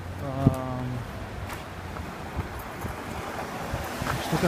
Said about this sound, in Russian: Ветер очень сильно дует